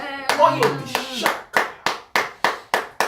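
A congregation at a French-language church service applauds, starting with a burst of mixed claps and voices and then settling into loud, evenly spaced rhythmic group clapping.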